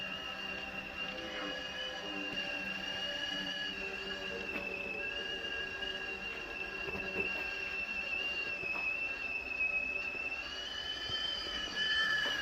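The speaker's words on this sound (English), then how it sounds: "You hear my tea kettle whistling behind me?" A home tea kettle whistles with a steady, sustained high-pitched tone at moderate volume, holding through the whole stretch over faint room background.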